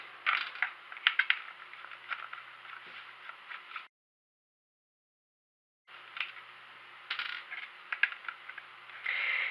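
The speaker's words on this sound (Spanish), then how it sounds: "así voy a empezar a destornillar" Small Torx screws being unscrewed from an Xbox controller, light clicking and ratcheting scrapes at close range in two stretches separated by a short silence.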